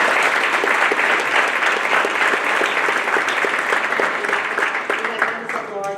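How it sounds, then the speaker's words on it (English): An audience applauds the food bank's board of directors, steady dense clapping from a crowd filling the room and holding strong before easing slightly near the end. "everyone please, a round of applause"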